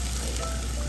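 Onions sizzling in olive oil in a pan as they cook for pancit, a steady close hiss and crackle of frying that continues unbroken, with no talking.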